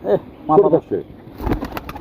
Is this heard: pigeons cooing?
yes